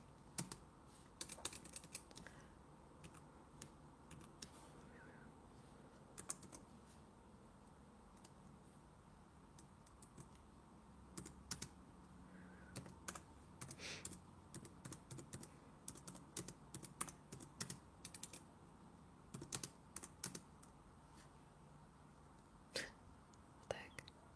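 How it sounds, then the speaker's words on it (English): Keyboard typing at close range, with quiet bursts of clicking keystrokes in an uneven rhythm that trail off into short pauses, and soft whispered speech running faintly under it. "Do you guys like typing sounds?"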